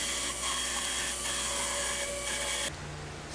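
Bandsaw whining loudly as it cuts a large wooden circle on a homemade circle-cutting jig, a sustained high motor tone with blade rasp that drops suddenly to a lower hum near the end.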